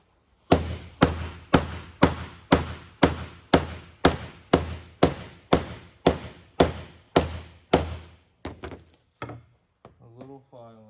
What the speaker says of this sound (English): so I can put it down here and do some rudimentary pounding.